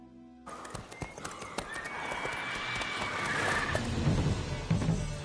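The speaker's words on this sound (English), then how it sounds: "Whoa there, Roach." A horse in The Witcher 3 video game clip-clops at pace while neighing, with hoofbeats building under a sustained whinny that rises and then fades into heavier hoof thuds.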